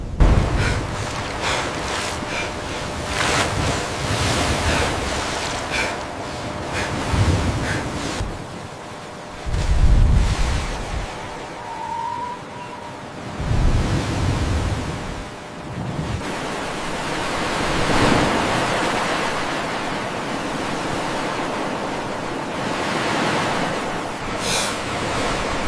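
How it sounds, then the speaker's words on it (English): Ocean swells roll and wash at night on open sea, a broad, loud surging rush with rising and falling waves and wind noise. "eerie silence replaces the violence, leaving only rolling swells"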